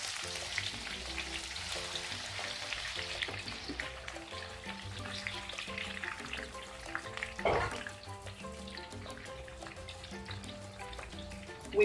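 Diced onion frying in heated oil for a Nigerian goat meat party stew, a steady close sizzle with crackling and brief stirring clatter running throughout without talk.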